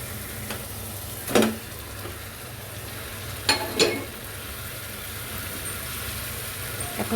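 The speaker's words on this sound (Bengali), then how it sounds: "মশলাগুলো ভালো করে ভাজা হয়ে গেলে আমি এর মধ্যে চিকেনগুলো দিয়ে দেব।" Chicken and spices sizzle in a pan with a constant frying hiss, broken by a few sharp clatters of stirring or utensils.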